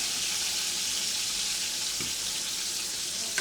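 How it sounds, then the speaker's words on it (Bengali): Fish fries in a pan in a home kitchen, giving a steady, close hiss and sizzle with a faint clink or two. "এই যে মাছ ভাজা হচ্ছে"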